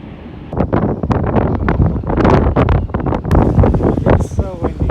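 Strong gusting wind buffets the microphone at a seawall with waves washing over, roaring loudly and unevenly throughout, with a person talking over it.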